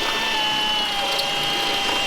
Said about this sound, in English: Now I'm drilling it with a 5/16 drill bit